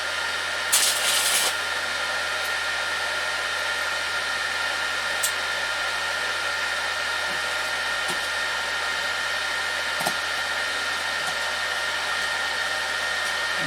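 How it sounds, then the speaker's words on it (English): Minleaf ZX7-250 inverter stick welder laying a tack weld with a warmed-up rod, giving a steady close buzzing crackle that runs throughout with faint sharp pops. "Now the rod's warmed up, it'll presumably weld a bit easier."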